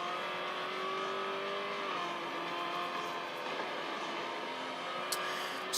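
Race car engine in Real Racing 3, a BMW on the final lap of a race, droning steadily at high revs with a sustained engine tone and faint tire noise throughout.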